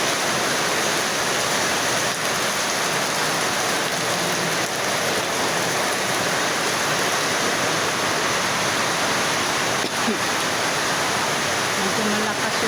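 Heavy rain pours down steadily as a dense, unbroken wash of noise that fills the whole stretch at high level, with no lulls, no voices and no distinct thunder standing out.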